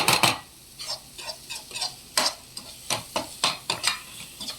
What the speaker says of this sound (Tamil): மசாலாலாம் கொஞ்சம் நல்லா ஃப்ரை ஆனாலே